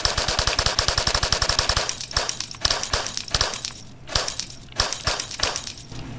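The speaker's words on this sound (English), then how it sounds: "these are the real browser sounds of closing tabs" Closing Chrome browser tabs set off loud, harsh, rapid-fire bursts from browser extensions, first a fast machine-gun-like rattle, then irregular crashing, smashing hits, with no talking.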